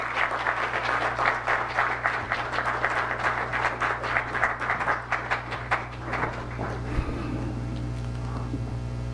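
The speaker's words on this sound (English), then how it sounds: "Give him a round of applause as he comes to the stage." Sustained audience applause at a Government House ceremony as Governor General Sir Arthur Foulkes comes to the stage, dense steady clapping over a low electrical hum, thinning toward the end.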